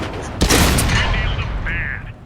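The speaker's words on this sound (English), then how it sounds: "And I just keep shooting at him." Tank cannon fire in World of Tanks, from a Panzer 38 shooting repeatedly at an enemy tank: a loud, close blast with a rumbling tail that fades into a dull roar, with no talk over it.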